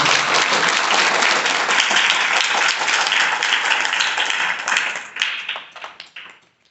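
Loud applause from a class of students opening a maths lesson, dense and steady clapping that sustains for several seconds before thinning out and fading to a few scattered claps.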